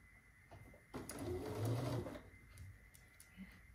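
A sewing machine stitches quilt block fabric in one short, quiet burst of rapid whirring lasting just over a second, framed by light clicks and handling sounds.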